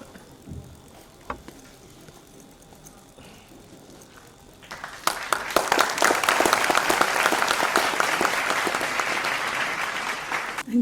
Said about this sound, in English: Please give a big round of applause for sir.